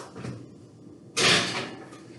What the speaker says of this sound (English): So these are going to go into the oven.